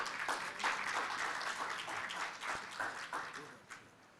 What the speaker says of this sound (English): A round of applause again to her